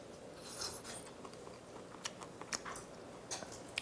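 Close, repeated crunchy chewing of firm autumn gizzard shad flesh, with irregular crisp clicks and rasping bites over a low background and no speech.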